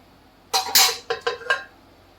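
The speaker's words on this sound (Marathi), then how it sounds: "परत आता आपण झाकण बंद करणार आहोत" A metal lid clanks onto a pot of cooked pea rice, one heavy clatter followed by a few quick lighter clinks as it settles, close and sharp in a quiet kitchen.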